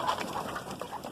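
Pet pigeons or doves coo softly and repeatedly in a garden, a continuous, close murmuring chorus with no talk.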